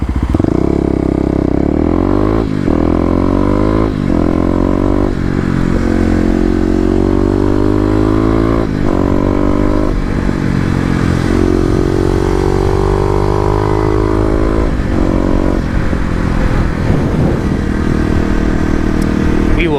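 Kawasaki KLX250 dirt bike ridden hard on a dry day with a 13-tooth sprocket, the engine loud and close as it repeatedly revs up and shifts, pitch climbing and dropping through gears for the whole stretch.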